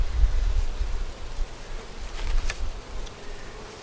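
Bees buzz in a soft, wavering drone close by, with light rustling and no talking.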